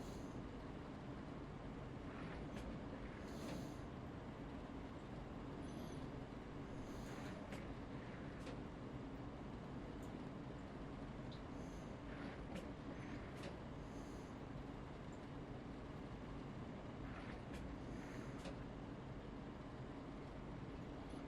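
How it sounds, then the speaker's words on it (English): A train departs in Train Sim World 6, a low steady rolling rumble with faint intermittent clanks and squeals. It stays quiet and distant throughout. "The train continues on to Luton without us."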